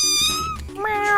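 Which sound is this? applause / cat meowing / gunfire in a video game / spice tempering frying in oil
cat meowing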